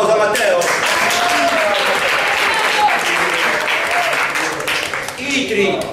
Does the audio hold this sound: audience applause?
yes